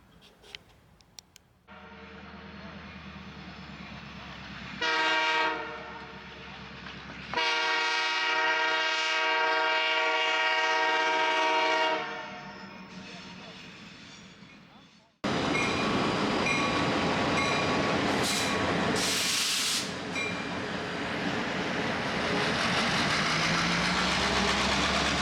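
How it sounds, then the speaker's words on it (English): A train passes very close to the Jimmy Carter boyhood farm home in Plains, Georgia, with loud, sustained horn blasts over a heavy rumble, then the roaring clatter of cars rolling by. "So the train is very close to the house."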